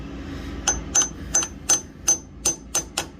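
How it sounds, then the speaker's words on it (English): Eight sharp metallic hammer taps at a steady rhythm, close and fairly loud, driving a new hydraulic pump seal into an International 300 Utility tractor, over a low rumbling background of combines harvesting soybeans nearby. "I went ahead and started pressing in the new seal."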